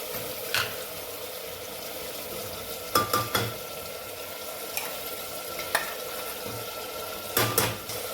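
Village chicken curry cooking in a pan with ginger-garlic paste, giving a steady close sizzle of frying with occasional sharp scrapes and clinks of a stirring spoon against the pot.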